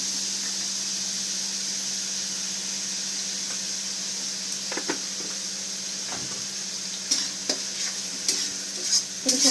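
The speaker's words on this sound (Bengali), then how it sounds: "পেঁয়াজটা হালকা ভাজা ভাজা আমাদের করে নিতে হবে" Steady frying sizzle of salted onions in a pan with a constant hiss, broken by occasional clicks and scrapes of stirring; no voices.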